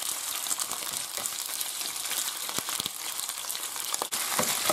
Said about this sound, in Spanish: y las salchichas. Y se tiene que freír bien.